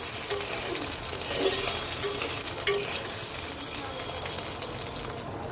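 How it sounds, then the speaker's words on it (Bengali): Boiled potatoes frying lightly in a pan for a potato and lentil-fritter curry, giving a steady, close sizzle with stirring scrapes throughout. A voice is faintly present underneath. "তো চলো আলুগুলো একটু হালকা ভেজে নেই"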